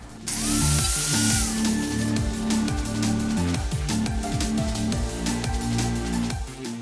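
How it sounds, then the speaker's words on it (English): A power tool grinds and drills on metal to clear it before welding during a motorcycle helmet lock relocation, running steadily and loud throughout with a high hiss at the start and a shifting, wavering pitch. "I'm just going to clear the metal off right here"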